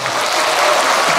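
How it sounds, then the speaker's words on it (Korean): A short burst of lively applause from a concert crowd, dense clapping at steady loudness for about a second. "박수 한번 해주세요."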